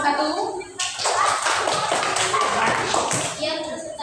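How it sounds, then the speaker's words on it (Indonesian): A classroom of students claps for a presenting group, a short burst of close, uneven clapping that rises after a moment of talk and fades back into voices and shuffling. "Tepuk tangan buat kelompok satu."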